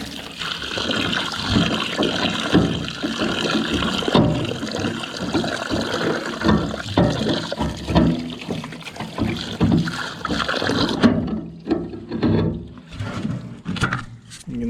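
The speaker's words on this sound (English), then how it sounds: "I've got some water. Hopefully that'll wash it out." Water pours through an antique Kelly Duplex grain mill and drains out, a continuous splashing, gurgling wash that runs unevenly for several seconds before thinning to scattered trickles and drips.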